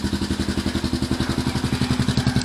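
Rusi Gamma 200 motorcycle engine idling nearby in Tanay, a steady, even pulsing chug that runs alone without a break.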